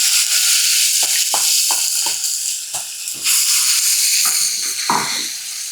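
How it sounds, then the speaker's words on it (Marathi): Ground masala paste sautéing in oil for a Marathi shengole curry: a loud continuous hiss-like sizzle broken by repeated spatula stirring strokes, close up with no talking. "आता हे फक्त 1-2 मिनिट फक्त परतून घेऊया"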